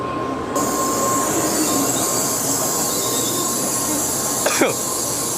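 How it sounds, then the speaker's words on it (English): A Kodama bullet train on Japan's Tokaido line rolls into a station with a steady rumble and a high metallic wheel squeal, followed by a short sharp screech near the end. "here it is. The Kodama train heading to Tokyo."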